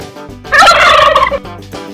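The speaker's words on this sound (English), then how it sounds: "turkey," A domestic turkey gobbles once, loud and near, in a rapid warbling burst of just under a second, with quieter background before and after.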